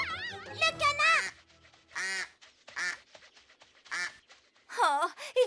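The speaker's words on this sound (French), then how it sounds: "Le canard!" Nasal, wobbling cartoon duck quacks come in short bursts separated by brief silences, mixed with animated French voices.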